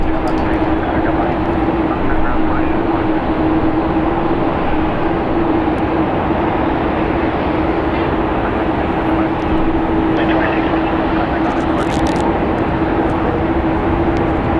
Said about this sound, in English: Canada Flight 740 going to be departing to Toronto. It is a Boeing